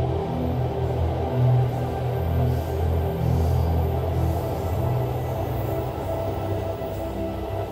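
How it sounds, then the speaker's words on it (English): A train passing by in Hakone, Japan, makes a steady, loud low rumble with a faint metallic whine above it, continuous throughout with no voices. "You get to see all the trains going by."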